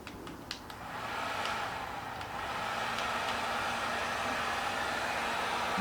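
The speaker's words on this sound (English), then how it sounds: "And you take your heat gun" A heat gun blowing on heat shrink tubing over a crimped ring terminal, a steady breathy whoosh of airflow that builds slightly and holds, close and continuous with no talk.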